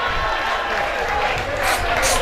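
Audience clapping and cheering at a school graduation ceremony, a steady dense wash of applause from a crowd that keeps up without a break.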